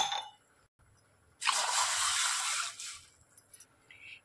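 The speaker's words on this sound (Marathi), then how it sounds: "2 ग्लास पाणी टाकून घेते।" Water from a glass pours into a pan sitting on a gas stove, a single loud gushing splash lasting over a second before tailing off into quiet drips and small clinks.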